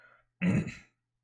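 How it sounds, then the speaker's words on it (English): A single throat clearing, close and fairly loud, a short rough burst lasting about half a second, with quiet before and after. "Sorry for clearing my throat about 5 million times"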